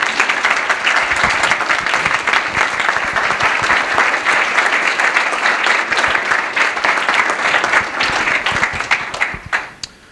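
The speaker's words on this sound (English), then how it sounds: "Can we get one more round of applause for..." An audience applauds loudly and steadily after a talk on engineering careers in small business, the dense clapping holding for about nine seconds before tapering off at the end.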